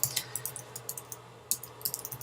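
Computer keyboard typing while entering a caption, a quick irregular run of crisp close-up key clicks in bursts with short pauses, no speech.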